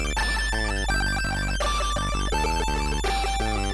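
Commodore 64 chiptune title music plays steadily, with buzzy arpeggiated synth lines over a constant pulsing bass, with no talk.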